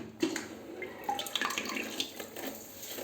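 Water from a bidet sprayer in a Jakarta bathroom sprays and splashes steadily, a hissing flow with a few drips and spatters, fairly close and continuous throughout.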